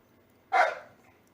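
A single short dog bark, close by and fairly loud, rising sharply and fading over about half a second against a quiet background.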